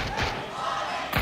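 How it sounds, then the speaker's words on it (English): A crowd at a PUBG esports tournament event applauds the champions, a continuous dense roar of clapping and cheering with a few louder bursts. "Round of applause here for your tournament champions"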